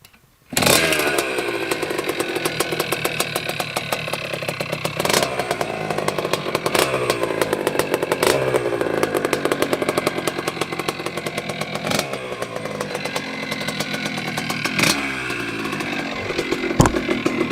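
A 1983 Yamaha YZ100 two-stroke motocross bike runs close by with a loud, raspy, buzzing engine that holds steady with sharp blips of revving throughout, and no talking.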